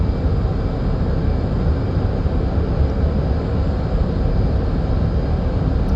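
An F/A-18 Hornet jet engine in the DCS flight simulator, flying a Finnish display routine, gives a steady, loud, unbroken roar for the whole stretch with no voices.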